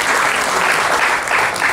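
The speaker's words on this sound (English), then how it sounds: "Round of applause" Applause from the membership at a meeting for their treasurer, a dense, steady wash of clapping filling the room without pause.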